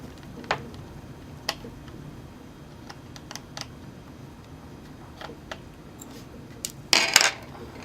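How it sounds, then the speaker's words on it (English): A PCIe wireless card is pried out of a Sony Vaio laptop on a quiet bench, making scattered small plastic clicks and ticks and ending with a short, sharper clatter. "Okay, taking out the wireless card now."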